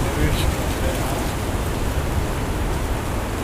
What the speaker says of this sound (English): the wind is actually picking up